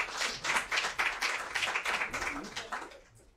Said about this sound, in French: Donc, il y a la sœur Coco, que je vous demande d'applaudir, s'il vous plaît.